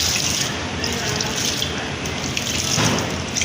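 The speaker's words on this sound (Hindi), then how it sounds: "हम इसमें अब पानी ऐड करेंगे जितना हमें ज़रूरत होगा।" Water is poured into a pakora batter mixture for kadhi pakora, a steady splashing, trickling stream heard up close.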